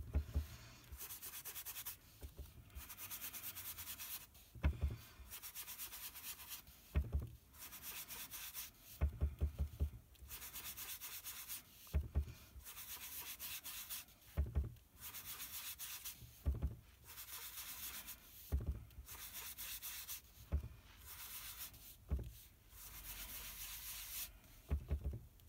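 A small cut sponge loaded with powder pink ink is rubbed over the edges of a Stampin' Up tri-fold card, giving repeated soft scuffing strokes in steady bursts with brief pauses between, close up and unaccompanied by talk.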